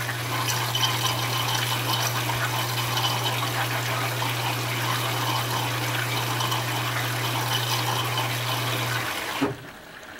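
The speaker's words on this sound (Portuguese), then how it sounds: "é normal ela fazer pausas durante a entrada de água" Electrolux Premium Care 13kg front-loading washer (LWI13) drawing in water for a towel wash: a steady rushing inflow with a constant low hum, running evenly for about nine seconds before the flow abruptly pauses and drops off.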